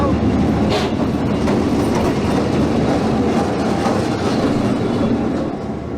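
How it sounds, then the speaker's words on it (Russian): A long freight train hauling containers, wagons and barrels rolls through the Sahara desert, a loud, steady rumble with rhythmic clickety-clack of wheels on rails, sustained close by throughout. "И похоже, поезд уже скоро отправится"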